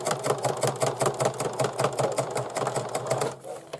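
A sewing machine stitches fabric for a zippered pencil bag, a steady rapid mechanical chatter heard up close that runs continuously before stopping abruptly near the end.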